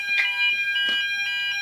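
A smoke detector fire alarm being tested sounds a loud, steady high-pitched electronic tone with short bursts of harsher chirping throughout, close to the device and with no talking.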